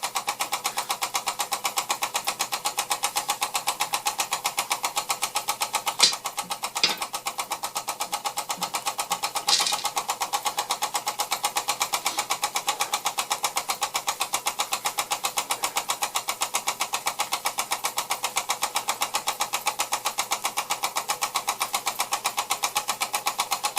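A Bing 1393/5 model steam engine runs steadily during a long run test, producing a fast, even mechanical chuffing and ticking rhythm at moderate volume, with a few brief clicks partway through.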